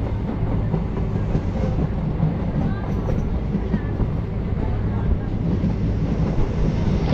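A DEMU local train runs from Siliguri toward the Dooars with a steady, loud rumble and rattle of the carriage, a continuous rolling drone with faint clicks on the rails.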